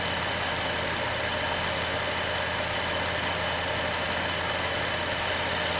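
A Dodge Grand Caravan's 3.8 engine idles steadily after an engine replacement, a constant low hum with a faint steady whine, heard close and alone for the whole stretch.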